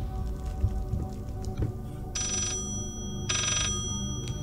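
An old telephone rings in the horror game Layers of Fear, two short electronic trills sounding a little apart over low rumbling ambience and footsteps, with no talk.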